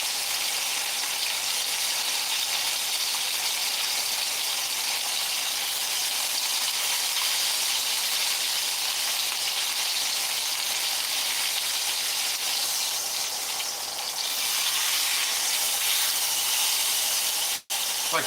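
Steady, dense sizzling of a steak searing its edges in a hot cast iron skillet, loud and close for a long stretch, with a brief clunk near the end.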